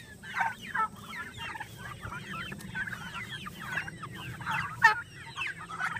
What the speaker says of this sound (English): There's some the younger turkeys,